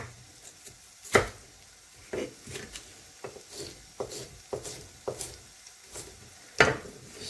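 A knife chopping onions on a board: scattered, irregular soft cuts and thuds, fairly quiet and close, with a few sharper knocks.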